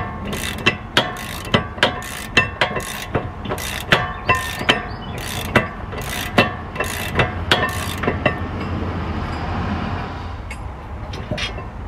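Rapid rhythmic metallic clicking from a ratchet wrench working caliper bolts on the rear brakes of a 2011-2013 Buick Regal, a steady run of sharp ticks that fades into softer handling noise near the end, close with no talk.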